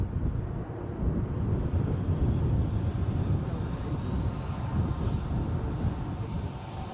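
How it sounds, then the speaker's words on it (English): A Transavia airliner taking off at a gusty Edinburgh airport, a steady, loud broadband jet roar with low rumble, distant but sustained, mixed with wind buffeting the microphone. "So I think this is our last takeoff, and I make the Transavia"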